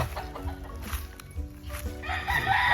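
Rooster in a chicken breeding pen crowing close by, a short loud call with clucking and farmyard noise around it and no talk.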